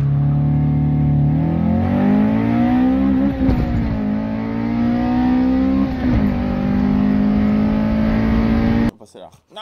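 A VTEC engine revs hard and loud, its droning tone climbing and dipping through several swells before cutting off abruptly near the end.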